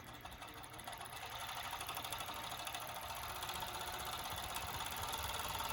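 A Juki 6814 two-needle, four-thread overlock machine runs steadily while stitching elastic onto a fabric edge, giving a fast, even mechanical whir and rattle that holds constant and builds slightly in loudness.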